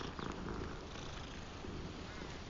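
A cat purrs in the Hogwarts video game, a steady low rumbling purr that continues unbroken and fairly loud through the whole stretch, with no talking over it.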